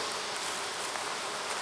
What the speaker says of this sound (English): There's always a couple of bees in this yard that come out and they're not happy.